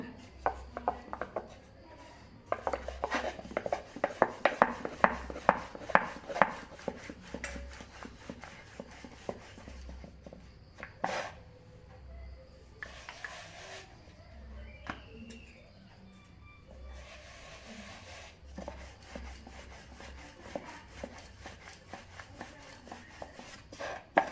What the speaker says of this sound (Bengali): আমি রুটিটা বেলে নেব।